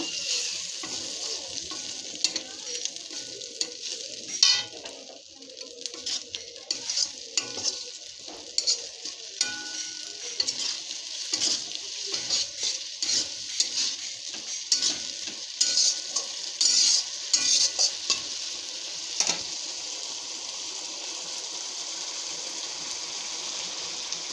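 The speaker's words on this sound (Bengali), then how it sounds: "একটু শুকনো লঙ্কার গুঁড়া দিয়ে ভালো করে মশলাটা কষায় নিব" Spice paste fried with water and dried chili powder in a pan, giving a continuous hiss of sizzling under repeated scraping stirs that go on steadily and close up, with no talking.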